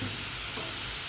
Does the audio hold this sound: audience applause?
no